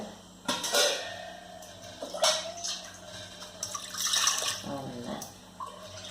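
About one and a half glasses of water being poured into a pressure cooker on the stove for a Kerala plantain and cowpea curry. The pour comes as a few short splashy bursts with clinks of the vessel, and a voice talks faintly underneath.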